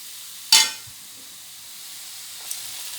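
Chicken filling for ada sautéing in a pan gives a steady, fairly soft sizzle, with one sharp metallic clack near the start and a faint tap later.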